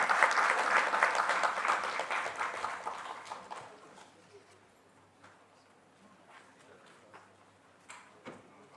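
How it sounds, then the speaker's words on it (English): Applause from an audience at a parliamentary inauguration ceremony, loud at first and then tapering to a few scattered claps and faint room noise. "Please, let's give her a round of applause."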